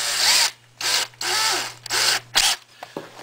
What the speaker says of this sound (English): We're gonna drill a hole down underneath, right under our box.